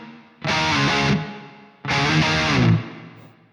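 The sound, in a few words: guitar reverb effect from Bogren Digital MLC Subzero 100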